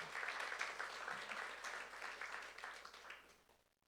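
A church congregation applauds steadily for a few seconds, a dense wash of clapping that fades out at the end.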